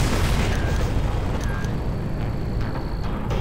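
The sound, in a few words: rocket explosion in the Far Cry video game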